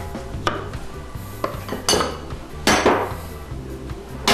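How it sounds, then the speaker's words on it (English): A kitchen knife coarsely chops mushrooms on a board in a handful of loud, irregular thuds and scrapes, heard close over a steady backdrop of music. "these are my mushrooms. And I just like to give them a coarse chop"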